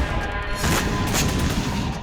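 Explosions from a combined Syrian and Russian strike on a rebel convoy in Idlib, Syria: a dense, loud wash of blasts and crashing booms rolling together without a break, with no voices.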